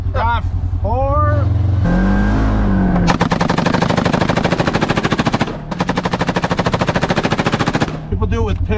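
A machine gun fires long rapid bursts, loud and close, from a moving Razor side-by-side, with the vehicle's engine revving between strings of shots and voices briefly heard at the start and end.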